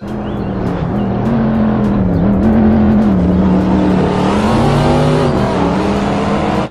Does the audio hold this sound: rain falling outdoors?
no